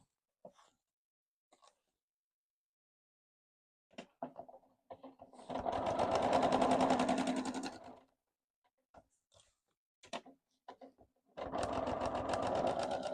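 A sewing machine stitches seams on a Christmas patchwork piece in two sustained, close runs of rapid whirring, separated by quiet gaps with faint handling clicks.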